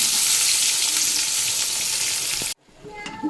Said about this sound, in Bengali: এখন এই তেলে আমি দিয়ে দেব বেগুনগুলোকে লাল করে ভেজে নেব।